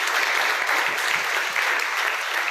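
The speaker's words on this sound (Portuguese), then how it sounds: "Você pode glorificar Deus com as palmas, Jesus Cristo." A church congregation claps together in a dense, steady burst of applause that fills the room evenly, with no talk over it.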